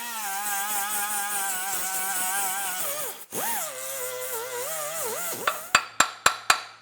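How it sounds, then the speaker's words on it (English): A grinder hums steadily with a wavering pitch as it grinds excess exhaust gasket material off a 2010-2016 Cadillac SRX. It dips briefly while the tool works, then stops, and four sharp metallic taps follow in quick succession. "I'm just going to use a grinder and just grind off any excess."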